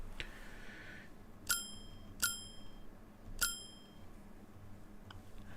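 Three bright, clean bell dings ring out for an indie game, evenly spaced about a second apart, each with a short shimmering decay over a faint background hiss.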